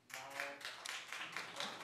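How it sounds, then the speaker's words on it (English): A studio audience at a daytime TV talk show applauds, a dense, continuous wash of many hands clapping at once, steady and even in level for the whole stretch. "Clap if you watch Joneses."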